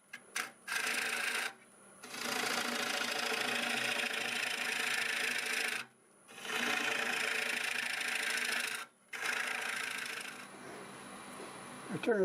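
Oak blank spinning on a wood lathe at nearly 1400 RPM, a steady whirring motor hum with scraping texture, broken by a few short pauses where the sound cuts out before resuming.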